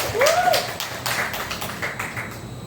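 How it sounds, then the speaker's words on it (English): A small audience at a startup demo day gives a brief round of applause, light, rapid clapping that is fairly near and fades over about two and a half seconds. "Let's give him a round of applause here."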